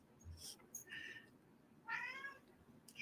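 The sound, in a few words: cat meowing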